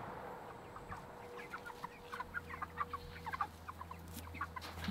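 Chickens kept as meat birds cluck in short, scattered bursts throughout, moderately close within a pen, with a low steady hum running underneath and no one speaking.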